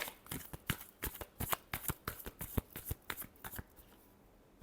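Tarot cards are shuffled by hand, a quick series of crisp riffling flicks and slaps in an uneven rhythm, close and quiet, trailing off after about four seconds.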